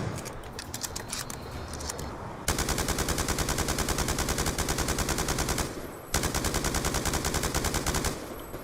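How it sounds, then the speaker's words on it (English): A light machine gun in a video game fires long, steady, rapid bursts with a brief gap between them, loud and close, after a short stretch of mechanical reload clatter at the start. "We love the LMG reloads."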